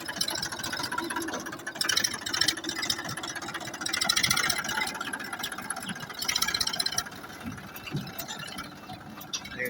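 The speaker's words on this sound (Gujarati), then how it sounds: "10 ટીકી ટ્રેક્ટર હાકીને હું તમને વારી દઉં જોઈ લે।" A tractor engine running nearby, a continuous mid-pitched rumble that swells and eases in gentle surges, with no voices over it.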